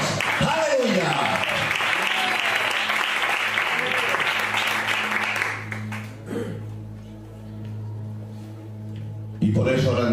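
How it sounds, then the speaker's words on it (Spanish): A church congregation breaks into loud, dense applause for several seconds, which fades into a low organ or keyboard chord with a preacher's voice speaking over it before the clapping briefly swells again. "Dale un aplauso a Dios"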